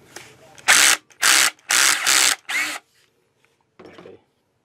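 A Black and Decker 20 volt LDX120C cordless drill drives a screw into wood: four loud, close whirring bursts separated by short pauses, then one brief, quieter burst.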